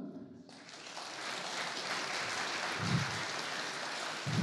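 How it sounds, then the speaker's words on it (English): Audience applause at a real-time Linux tech talk, starting after a brief pause and then holding as a steady, even wash of clapping at moderate distance. "Please, a Thank round you. of applause for them."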